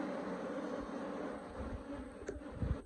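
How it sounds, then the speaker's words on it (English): Africanized honeybees hum steadily in a crowded hive full of drones, a dense low buzz sustained throughout at moderate volume with a few closer wingbeat flickers near the end. "But there is a lot of bees."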